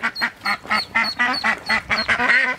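Mother ducks quacking close by in a rapid, regular series of about ten loud nasal calls, one after another with no pauses.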